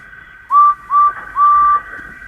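Three shrill whistle blasts from a railway guard on a platform, two short and one longer, sound loud and close over a faint background hiss.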